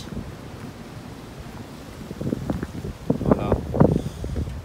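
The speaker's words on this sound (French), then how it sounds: "Dommage qu'il y a beaucoup de vent." Rough, buffeting wind rumbles against the microphone beside a 2019 Ford Mustang fastback, growing stronger and gustier partway through, with a brief word spoken.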